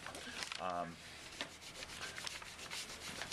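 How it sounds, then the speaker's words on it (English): Fingers rubbing colored chalk into a glue line on a self-portrait artwork, soft close scuffing strokes repeated in short bursts, quiet, with a brief voice-like tone near the start. "got to rub it in, and you can see that it really sets off that glue line"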